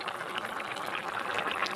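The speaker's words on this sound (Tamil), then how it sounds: "கறி வேகிறதுக்கு 1 டம்ளர் தண்ணி மட்டும் ஊற்றினா போதும்" Water pouring into a kadai of Pallipalayam chicken curry, heard as a soft, steady splashing and bubbling fill, faint and close, continuing evenly throughout with no talk.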